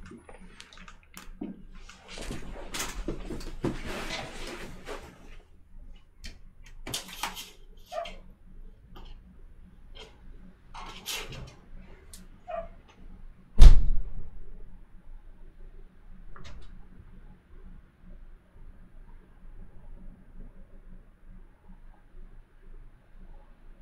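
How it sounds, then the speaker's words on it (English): An excited dog barks in repeated bursts indoors, some loud and close, others fainter, with a sharp thump partway through. "My dog's going absolutely nuts."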